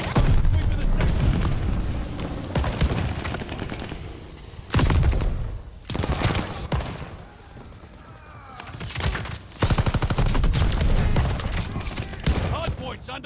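Gunfire around a hardpoint objective in the shooter game Call of Duty: Vanguard, with dense bursts of automatic fire and heavy booms coming in loud waves, broken by brief lulls, under in-game voice callouts.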